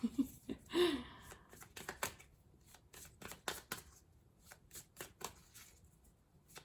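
Tarot cards are shuffled up close in quick, irregular riffles and soft flicks, faint and crisp, with a brief voice at the start.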